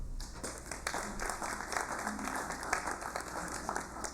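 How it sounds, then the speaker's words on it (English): A crowd at a legislative session applauds with a dense, even patter of clapping that holds steady for a few seconds, moderately distant and fairly quiet. "let's give them a round of applause"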